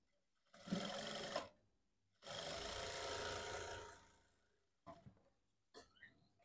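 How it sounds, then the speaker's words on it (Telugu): A sewing machine stitches a blouse seam in two close, steady whirring runs with a pause between them, followed by a few short clicks and taps. "ఇప్పుడు ఈ వేసిన కుట్టు పైననే మళ్ళీ ఇంకొక కుట్టు వేయాలి"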